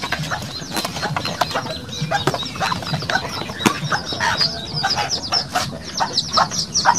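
Chickens on a farm, brooding hens and breeders, clucking and chirping continuously at close range, with scattered sharp calls and rustling of wings.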